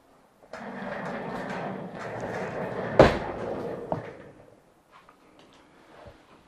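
A chair is dragged out of an amateur radio station: a few seconds of scraping and rumbling, a sharp knock in the middle, then fading shuffles and light bumps.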